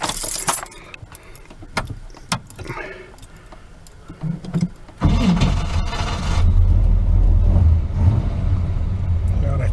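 A Chevrolet S10 pickup truck engine cranks and catches after some key jangling, then settles into a steady, loud idle close by that continues to the end.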